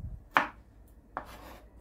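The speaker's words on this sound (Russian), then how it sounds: "Далее помидоры нарезаем на кубики." Tomatoes being cut into cubes with a knife on a board: two crisp, separate chops close up, with a quiet pause between them and no talking.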